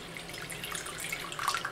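Lukewarm water poured for a bread starter, a short steady trickle and splash close by, running for under two seconds with no voices.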